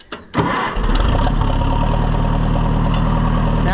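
A New Holland 550 tractor engine cranks and catches after a brief click, then settles into a loud, close, steady low diesel idle with an even throbbing rumble.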